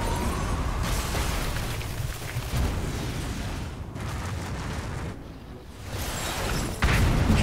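Rumbling explosions and booms from Monster Hunter Stories 2 fill the scene with dense, noisy bursts that fade and return, ending in a louder blast.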